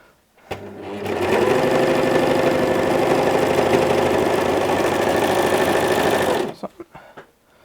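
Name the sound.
sewing machine stitching a sweater shoulder seam with stabilizing elastic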